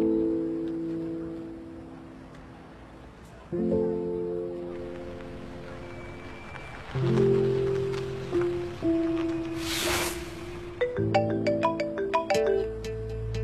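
An incoming call sounds as a melodic mobile ringtone in a Marathi-dubbed TV drama scene, stepping through sustained notes over several seconds, with a brief whooshing swell partway through before the tune resumes in short, brighter tones.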